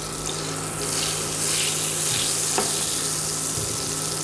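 Butter and oil sizzle loudly in a frying pan with a continuous bright hiss and some low bubbling underneath, close and unbroken, with no talking.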